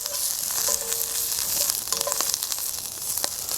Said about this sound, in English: Let's go ahead and give them a stir.